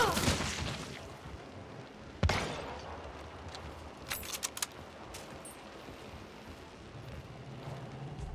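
A single sharp gunshot in the video game Hunt: Showdown cracks out at mid distance against a low background hum, followed later by a few quick faint clicks.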